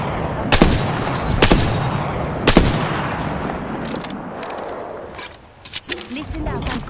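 Gunfire in a shooter video game: a few sharp, loud isolated shots spaced out, then a scattered cluster of quieter pops toward the end, with background game noise throughout.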